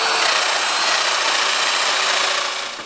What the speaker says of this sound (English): So we'll start by cutting the domino pieces into the end